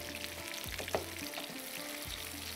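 Soft kebabs frying gently in a pan for a desi meal, an even, moderate sizzle with light crackles and a faint utensil tap, no one speaking.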